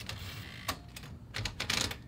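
A 1940s L.C. Smith Corona Sterling Speedline typewriter clacks as several keys are struck, a few crisp strikes at an uneven pace followed by a quick cluster near the end, fairly soft and close.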